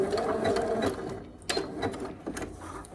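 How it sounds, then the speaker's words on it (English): A sewing machine back stitches at the end of a seam on a simple summer dress, giving a close, dense mechanical whir that slows into a few short clunking bursts. "And back stitch at the end."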